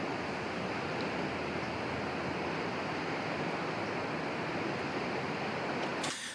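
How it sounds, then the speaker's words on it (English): Steady waterfall roar in an ambient forest recording, a dense, even rush of falling water that continues without change and then cuts off abruptly at the end. "I just want kind of that water movement sound to represent the waterfall here."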